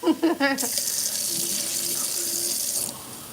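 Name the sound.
child playing with running tap water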